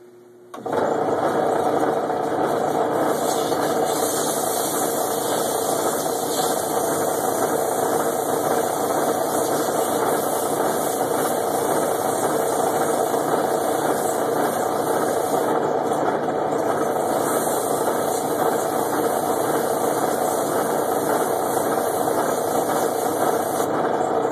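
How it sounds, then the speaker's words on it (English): Sandpaper of 120 grit works a cherry wood wine stem, most likely spun on a lathe, giving a loud, continuous rushing hiss over a steady motor hum that starts abruptly and runs unbroken. "I'll just use 120 grit sandpaper to take that on down a hair"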